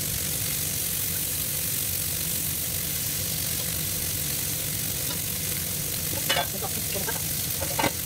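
Steak frying in a very hot pan while broccoli pasta is being cooked, giving a steady, close, dense sizzle throughout, with a couple of brief clinks near the end.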